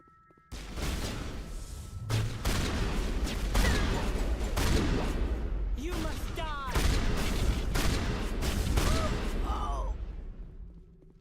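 Repeated shotgun blasts in Mass Effect Legendary Edition, loud and close, with heavy impacts scattered through a busy combat scene. Voices are heard between and under the shots.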